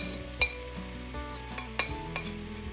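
Garlic and mixed herbs sizzle steadily in a pan, a close crackling hiss with a few spoon knocks and stirring scrapes, no voices.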